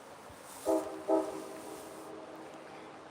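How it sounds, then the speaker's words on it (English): A train in Alaska sounds two short horn blasts in quick succession, moderately distant. A low rumbling background follows and no one speaks. "And the train's gonna be leaving."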